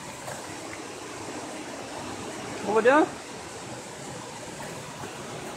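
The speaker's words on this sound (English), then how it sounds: "Can you hear the water of the waterfall?" A big waterfall sends up a steady, even rush of water noise throughout, with a person briefly speaking over it midway.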